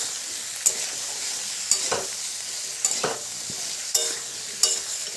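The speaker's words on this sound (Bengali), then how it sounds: "সব সবজিগুলোকে লবণ হলুদ দিয়ে এবার ভেজে নিচ্ছি" Mixed vegetables for a vegetarian labra dish fry in a pan with salt and turmeric, a steady close sizzle broken by several sharp scrapes of stirring at irregular intervals, with no talk.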